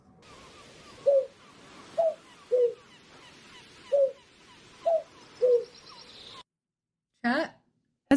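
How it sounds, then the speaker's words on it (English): Short Zelda tune pieced together from cartoonish video game bird calls: six evenly spaced chirpy coos form a melody over quiet background murmur, then a brief silence and one more bird note. "I found these 3 birds that made 3 different noises. So I'm going to show you little songs that I made using the birds"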